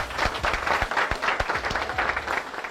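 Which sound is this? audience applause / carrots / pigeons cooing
audience applause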